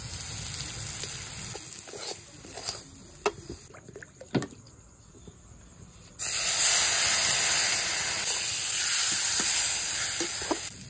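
After some quieter clinks and stirring, 200 grams of semolina go into a hot pan with onion, curry leaves, salt and water for upma, setting off a sudden loud, sustained hiss of steam and sizzle.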